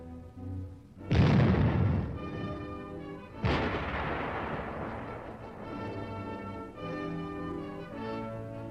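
A tank-team support weapon fires in a Cold War military training film, two heavy booming blasts a couple of seconds apart, each trailing off into a long rumbling decay over steady background music.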